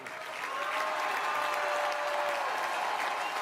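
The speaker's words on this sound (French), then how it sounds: "Oui, vous pouvez applaudir." A political rally crowd at a meeting in Saint-Denis breaks into sustained, full applause that swells in quickly and holds strong and steady, with faint vocal tones threaded through the clapping.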